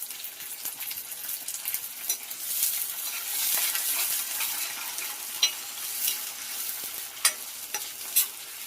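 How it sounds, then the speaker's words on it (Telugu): Masala and curry leaves frying in a pan for a drumstick egg curry, an intense hissing sizzle punctuated by sharp spoon scrapes and stirring clinks, close up with no voices. "కొంచెం ఫ్రై చేసుకోవాలి."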